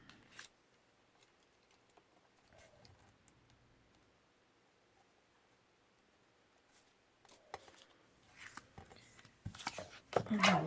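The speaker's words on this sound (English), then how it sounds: "And then we're going to cut on the inside of here." Scissors snip through a junk paper envelope, with faint scattered clicks early that build into louder, close cutting and crinkling near the end, and quiet talk in the room.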